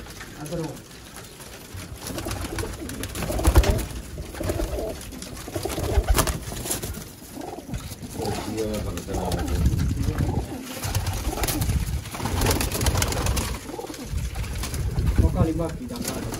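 Pigeons coo in soft, repeated throaty bursts throughout, close by, with scattered voices and background activity mixed in.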